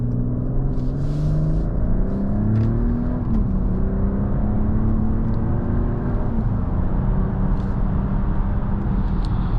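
A 2024 Mercedes GLS 450 with an inline-six engine accelerating on the road, its smooth engine note climbing steadily in pitch and stepping through gear changes, heard from inside over a constant road rumble.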